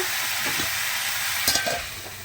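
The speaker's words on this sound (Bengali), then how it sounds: "আর এদিকে ডালটা ভাজিতে বসিয়েছি মুগের ডাল" Moong dal frying in a pan and being stirred, a steady close sizzle with a few scraping stirs near the middle, no voices.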